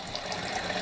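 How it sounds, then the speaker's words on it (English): Tap water running steadily into an RV water heater as it fills, a continuous close rushing flow with no talk. "So filling the water heater right now."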